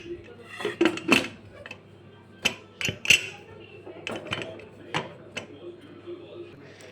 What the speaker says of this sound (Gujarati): પ્રેશર કુકરનું ઢાંકણું મેં બંધ કરી નાખ્યું છે